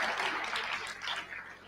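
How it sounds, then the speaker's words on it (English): An audience at a chemical science lecture and workshop claps for the lecturer, producing a soft, steady wash of applause that stays fairly quiet throughout. "Let's claim our own clap."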